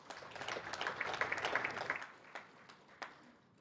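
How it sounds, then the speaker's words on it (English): Audience clapping at the closing ceremony of an experts' meeting session, a dense burst of many hands that swells then thins out into a few scattered, fading claps. "Please give yourself another big round of applause."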